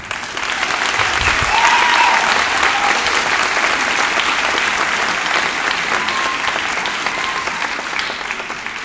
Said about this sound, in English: Graduates, please give a round of applause for their continued support.